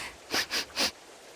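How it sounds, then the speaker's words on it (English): A character in the video game Tales of Berseria sniffs three times in quick succession, short and close, with quiet pauses around them. "Stop sniffing things."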